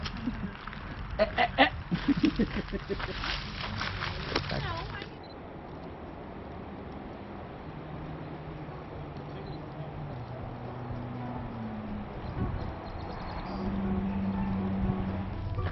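Geese honk in a flurry of loud, rapid calls near their nesting site along the Wabash-Erie Canal, then fade to quieter outdoor ambience with faint low sounds.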